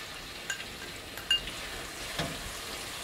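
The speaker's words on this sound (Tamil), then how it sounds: "இப்போ எண்ணெய் சூடாகிட்டு இருக்குதுங்க நம்ம அரைச்சி வச்சு இந்த கலவையை இப்போது எண்ணெய்க்குள்ளே போடலாம்" A ground herbal mixture fries softly in hot oil in an iron wok, a faint steady sizzle with a few light clinks of a utensil against the metal.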